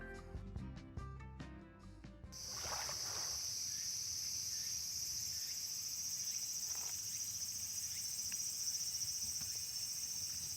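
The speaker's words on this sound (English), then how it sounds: "Can you hear those Japanese summer bugs?" Japanese summer insects chirp in a dense, steady shrill chorus that holds for about eight seconds after a short musical opening, fairly faint and alone with no voices.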